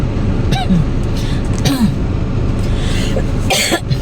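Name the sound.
coughing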